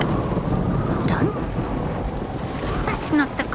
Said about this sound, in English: It's getting quite stormy.